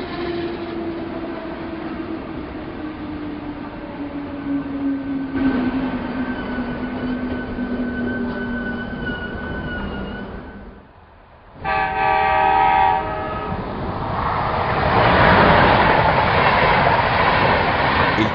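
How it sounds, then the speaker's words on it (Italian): A Trenord ETR 425 regional train pulls into a station platform, a steady rumble with tonal whine that briefly drops out before a louder, brighter burst of rolling and braking noise builds to the end. "Il treno regionale 4254 di Trenord proveniente da Milano Centrale e diretto a Tirano è in arrivo al binario 4."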